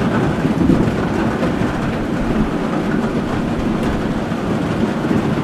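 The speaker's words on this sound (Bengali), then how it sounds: "তবে সময় যত এগোলো তা পরিণত হলো ভারী থেকে অতি ভারী বৃষ্টিপাতে, তারপর আবার শিলাবৃষ্টি" Heavy-to-very-heavy rainfall turning to hail over the hill village of Dawaipani, a continuous loud roar of drumming precipitation that holds steady throughout with no voices.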